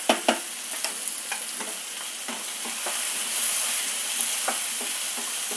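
Onions sauté with salt in a pan for sambar, giving a soft, continuous sizzle broken by repeated scraping strokes of a stirring spoon, close by and fairly quiet.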